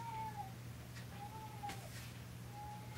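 A house cat meows several times indoors over a steady low hum, each cry short and moderately loud, spaced out across the moment.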